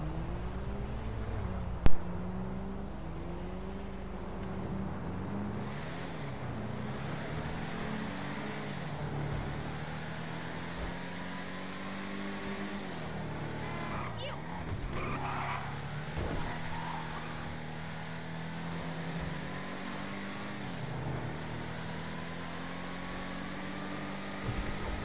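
A Bravado Hotring Hellfire race car, styled on the Dodge Challenger SRT TA2, drives in GTA 5 Online. Its engine revs rise and fall repeatedly, with occasional tire squeal and skidding over a steady motor drone.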